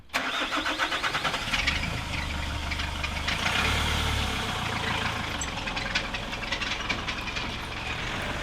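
A 2004 Nissan X-Trail T30 diesel engine after a diesel runaway, cranking and firing up, then running rough with a loud, steady chugging and knocking idle close by, with no talk.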